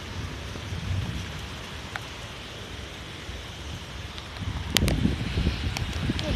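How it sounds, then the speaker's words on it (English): Steady rain falls during a thunderstorm, a continuous near hiss with a louder burst of heavier drops and rustling toward the end; no speech. "Rain's hit me in the face and stuff like that."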